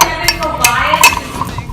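A spoon stirring a homemade EOS-style lip balm mixture in a small container, giving a quick series of close, bright clinks and scrapes at an uneven rhythm.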